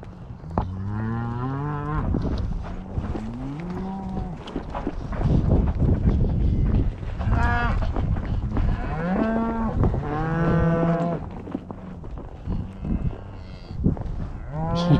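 Cattle on a Montana ranch cattle drive moo repeatedly, with several loud, drawn-out calls close by, some overlapping, alongside faint hoof and outdoor noise.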